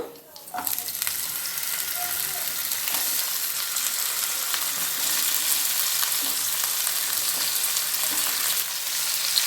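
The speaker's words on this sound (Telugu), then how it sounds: "ఇప్పుడు ఈ ముక్కలు వేసేద్దాము." Raw banana pieces hit hot oil with crushed garlic and curry leaves, setting off a loud, bright sizzle that swells and holds steady, with brief stirring clatter at the start.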